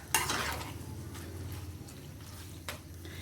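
Clams are stir-fried with roasted chili paste, a soft, low sizzle with scraping and clinking from a spatula against the pan, starting with a brief louder clatter and then quieter stirring, close by.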